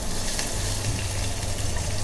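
Curry leaves tempering in hot oil alongside fenugreek powder and asafoetida in a dry phodni, giving a steady, close, continuous sizzle and crackle that stays even throughout with no voices.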